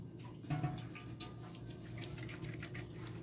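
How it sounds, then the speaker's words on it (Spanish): Thick corn atole pours through a kitchen strainer with a soft, continuous liquid trickle and light dripping, close and quiet, over a faint steady hum. "Aquí se va colando."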